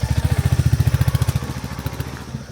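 A motorbike arrives by a main roadside homestay in Lava, Kalimpong, its engine chugging loud and close in a steady rapid pulse before settling to a quieter, uneven idle.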